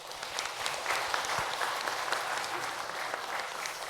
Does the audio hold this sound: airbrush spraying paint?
no